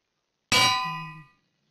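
A single bright metallic clang of an anvil used for repairing in the video game Minecraft, ringing out alone and fading over about a second.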